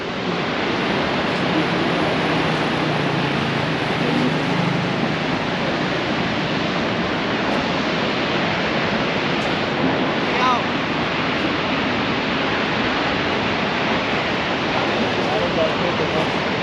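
A dense, unbroken roar of falling water fills the scene at constant loudness, the Tequendama waterfall near Bogotá heard from nearby.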